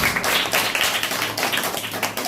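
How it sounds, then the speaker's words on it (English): A group giving a brief round of applause, dense close clapping that stays loud and even for a couple of seconds. "give a round of applause."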